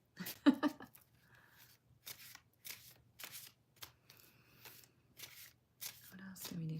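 Tarot cards being handled and shuffled up close, a quick series of soft riffles, slides and flicks in an irregular rhythm, with brief quiet talk mixed in.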